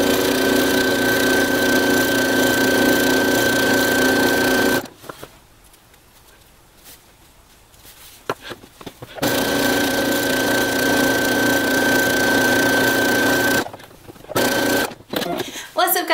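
A sewing machine runs gathering stitches along a skirt in long, loud, steady motor runs with a high whine. A pause of several seconds breaks them up, and a few brief starts and stops come near the end.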